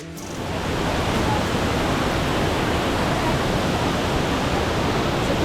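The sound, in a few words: waterfall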